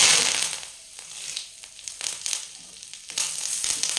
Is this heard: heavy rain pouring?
no